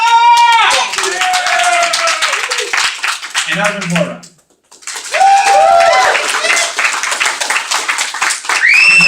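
Loud, sustained applause and cheering from a crowd at a Libertarian presidential debate, greeting the candidates; the clapping dips briefly to near silence partway through, then swells again, with a host's voice speaking over it.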